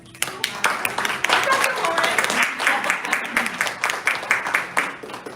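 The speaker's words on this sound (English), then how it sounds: "if we could give a round of applause for Mikaela." Audience at a detox health talk applauds Mikaela with a close round of clapping, scattered claps building into dense applause that tapers into separate claps, with a voice briefly heard underneath.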